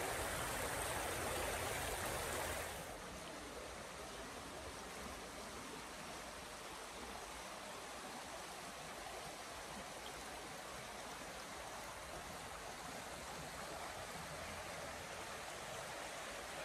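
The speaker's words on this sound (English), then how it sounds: "Look at that river running through the forest." River running through a Scottish pine forest, a steady broadband rushing of flowing water heard at a moderate distance, faint and continuous with no voices.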